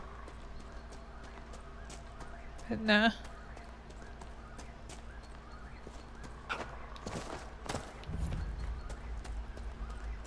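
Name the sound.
horse hooves in Dragon Age Inquisition video game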